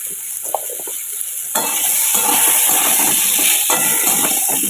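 Potatoes fry with turmeric in a hot pan, a quiet stir and scrape giving way to a loud, steady sizzle that carries on to the end with no voices.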